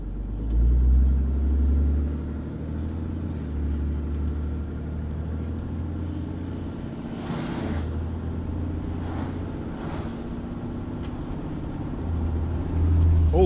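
A Cummins-powered pickup truck engine hums steadily with low road rumble, easing through a transmission gear change midway before settling back into a smooth drone.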